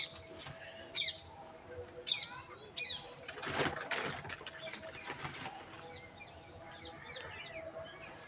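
Pet lovebirds, an old pair, flutter their wings in short bursts and let out quick, high chirps nearby. The flapping comes in several clustered flurries, and faint rattling from the cage sounds in between.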